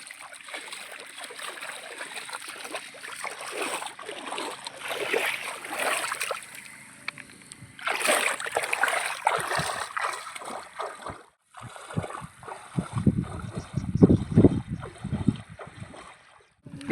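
A swollen river rushes and sloshes around people out net fishing, with steady flowing water, irregular splashes and bumps close by throughout.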